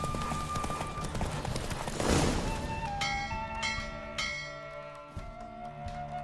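Horse galloping in The Witcher 3 video game, hooves drumming steadily through a race amid game music with bell-like tones, fairly loud and continuous with a surge partway through.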